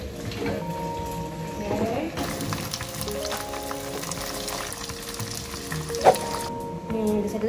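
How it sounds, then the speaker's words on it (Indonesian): Chicken frying in hot oil for ayam geprek gives a continuous crackling sizzle, with a brief sharper pop near the end and talk from a cook over it in the background. "goreng ayamnya kalau misalnya itu ada mendidih"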